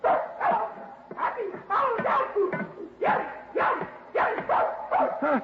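A dog barks repeatedly in a 1950s radio drama, a close series of sharp barks and yips in an irregular rhythm, with voices talking in between.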